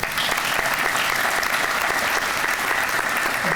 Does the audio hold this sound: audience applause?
yes